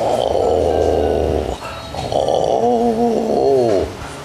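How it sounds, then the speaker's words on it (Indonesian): Lion roaring in a children's story, heard as a loud, low, rumbling growl that swells, breaks briefly, then rises again in wavering roars, alone with no talk. "barulah si tikus mendengar auman si singa."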